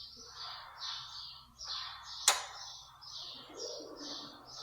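Pigeons coo repeatedly inside a shed, soft rolling calls in a loose rhythm over a low hum, with one sharp knock partway through.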